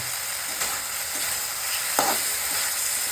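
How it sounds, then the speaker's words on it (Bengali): Spices sautéing in a hot pan while being stirred, a steady close sizzle with occasional soft scrapes of the spoon. "এবার মশলা দিয়ে দিয়েছি, এখন আমি ভালোভাবে কষব"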